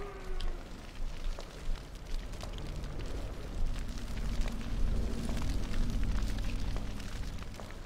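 Fire burning in the video game Carcass, a dense crackling roar with a few low thumps early on, swelling into a steady rumbling blaze.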